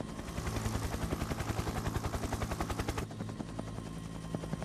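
Helicopter in the survival horror video game Dino Crisis, rapid rhythmic rotor chopping that is loud and steady, then cuts abruptly to a thinner, quieter pulsing.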